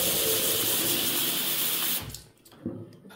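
Tap water runs in a strong, steady broadband hiss in an apartment block supplied by a pump, then cuts off abruptly, leaving a short quiet gap before a faint splash of water follows.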